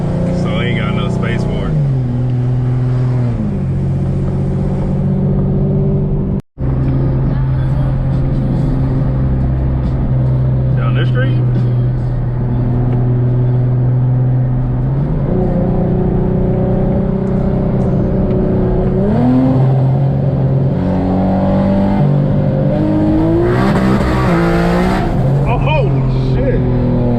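Big-turbo Nissan G37 sedan engine revving hard and held at high revs with anti-lag, a loud sustained droning roar rising and falling in pitch, with a brief cut near the middle and voices talking over it.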